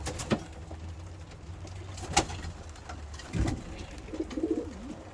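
Breeder pigeons, some bought from Hastings, coo softly in a loft, low rolling calls rising near the end over a steady hum, with a few faint clicks and no voices.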